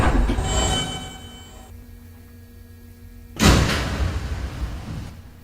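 A Queens-bound New York subway N local train made of R160 cars rumbles and hums in a station, dropping to a quieter idle before a loud surge of motor and wheel noise near the end.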